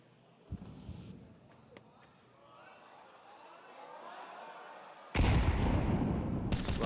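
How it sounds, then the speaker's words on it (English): Quiet stray shots give way to a sudden loud burst of rifle fire in Counter-Strike on the Ancient map, punched through a wall at close range near the end. "KENSI going for the wallbang this time."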